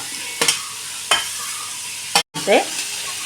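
An onion and rice mixture fries in coconut oil in a pan on the stove, a steady close sizzle broken by several scraping stirs of the spoon against the pan, with no talking.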